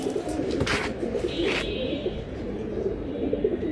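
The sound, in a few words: pigeons cooing at a pigeon market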